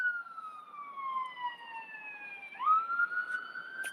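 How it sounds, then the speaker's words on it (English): At night near a cemetery, an ambulance siren wails from a distance. Its steady tone slides slowly downward, then jumps back up as the vehicle draws nearer. It stays fairly faint, and no one speaks. "It's coming now. There it is. It's an ambulance."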